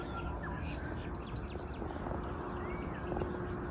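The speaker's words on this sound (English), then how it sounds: "there's a little bird that's just arrived here" A small bird in a garden gives a quick run of about ten high, sharp chirps in a rapid series, fairly close over a quiet outdoor background.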